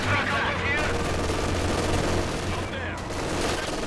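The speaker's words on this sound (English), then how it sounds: "There seems to be an enemy machine gun at the building." Machine gun fire rattles across a Company of Heroes 2 battlefield in a dense, steady, unbroken stream of shots at a moderate distance, mixed into continuous battle noise.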